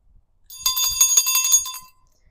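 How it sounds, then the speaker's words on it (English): A meditation bell rings brightly and clearly for about a second and a half with a shimmering, fluttering tone, then stops abruptly, leaving near silence. "I'll ring the bell at the end of our meditation time like this."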